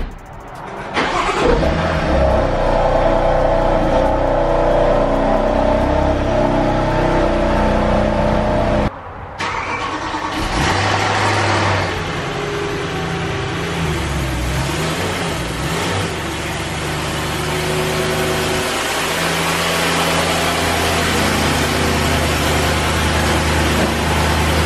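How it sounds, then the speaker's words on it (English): A well-maintained BMW M3 engine fires up, idles with a deep steady hum, briefly cuts out, then restarts and settles into a loud rumbling idle with occasional revs; no talking. "It's a beautiful car, it's a beautiful sounding car, very well maintained car."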